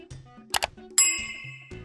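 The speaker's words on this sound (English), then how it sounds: "clicking that notification bell." A notification bell sound effect: a short bright ding with a metallic clang ringing out briefly after a couple of quick taps, fairly faint and alone.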